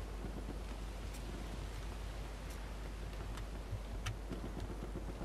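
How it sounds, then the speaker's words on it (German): Steady rainstorm with distant thunder rumbles in the video game Battlefield 1, a constant hiss of rain and low thunder filling the scene with no speech. "Wieder so ein Sturm."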